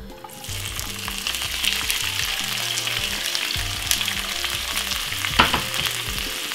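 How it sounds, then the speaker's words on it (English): Seasoned vegetables frying in a pan for Jamaican corned beef and cabbage, giving a loud, steady, close sizzle and crackle throughout with occasional stirring noises, a faint repeating low tone underneath and no talking. "what we're gonna do is to fry off all our seasoned veg and everything just to get the flavor and the taste from it"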